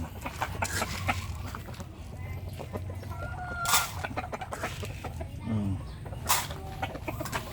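Chickens clucking close by, with scattered short squawks and a brief louder call, against a steady low background hum.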